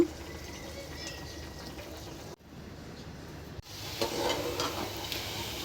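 Prawn curry sautéing in a pan, with a steady sizzle and stirring scrapes broken by a brief pause, then a brighter burst of frying.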